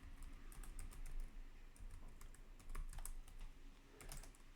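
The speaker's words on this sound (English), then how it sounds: "And then we'll type the variable name." Typing C code on a computer keyboard, with a steady run of soft, quiet keystrokes at an irregular rhythm and brief pauses between bursts. No one talks.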